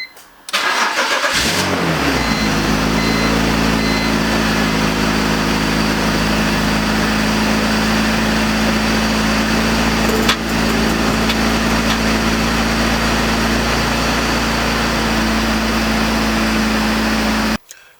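BMW E46 engine cranking and catching after valve cover gasket replacement, then settling into a loud, steady idle close to the car for the rest of the stretch before cutting off.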